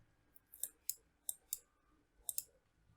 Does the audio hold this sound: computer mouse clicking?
yes